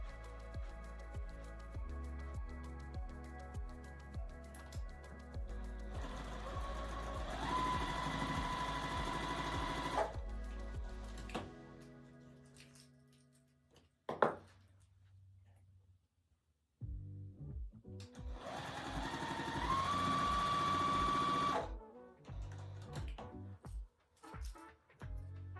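A sewing machine stitches quilt blocks in several bursts, with a rapid rhythmic chatter, pauses between runs and a long steady whirring stretch near the end, close and moderately loud.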